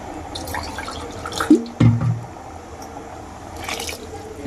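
Water being added to mushroom curry in a pot, a couple of short splashes and drips in the middle against a quiet kitchen background.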